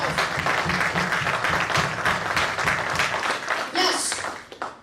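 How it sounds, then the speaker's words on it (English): An audience applauding at a motivational talk show event, dense sustained clapping close by for several seconds that tapers off at the end. "So everybody please give him a round of applause."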